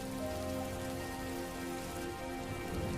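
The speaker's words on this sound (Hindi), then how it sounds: "बस यह बारिश जल्द ही खत्म हो जाए।" Rain comes down continuously, a close, uniform drumming of drops that holds steady from start to finish.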